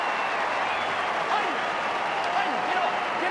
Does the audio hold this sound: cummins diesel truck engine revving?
no